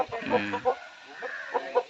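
A caged kagada perla fighting rooster that has already fought, a bird offered for sale, lets out a few close, clipped clucks and short calls separated by brief pauses, with no talk over them.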